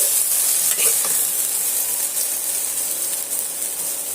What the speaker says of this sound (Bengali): এইভাবে নেড়ে চেড়ে আমি বরবটি আর আলুগুলো সুন্দর করে ভাজা করে নিয়েছি